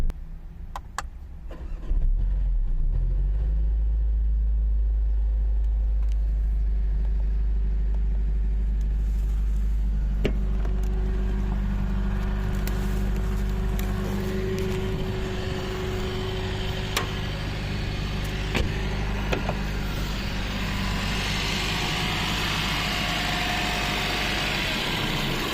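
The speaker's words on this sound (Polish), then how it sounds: "na zewnątrz silnik, jak on sobie mruczy" A 2020 Mercedes-Benz CLA 45s AMG engine cranking to life with a loud low roar, then settling into a deep, steady idle rumble heard from outside the car, with faint background noises over the long idle.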